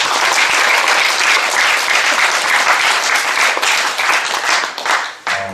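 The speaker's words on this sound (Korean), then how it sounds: "우리 하나님 앞에 큰 박수 올립니다" Church congregation giving a big round of applause for volunteers, loud, close, dense clapping that carries on steadily and then breaks up and thins near the end, with no talk over it.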